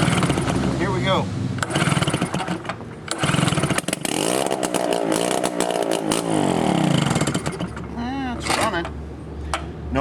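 A Tailgator portable generator's small engine runs with no muffler, a loud, raw, rattling blat that holds steady throughout and swells midway, with speech heard over it.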